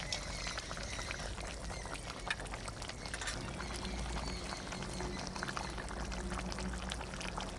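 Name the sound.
para fish curry with potatoes boiling in pot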